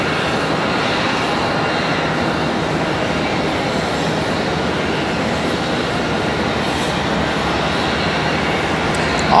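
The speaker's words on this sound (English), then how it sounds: "Another nice sounding A319 departure." An Airbus A319 departing Charlotte Douglas International, a dense, steady rumbling roar of jet engines at strong level throughout, with no talking.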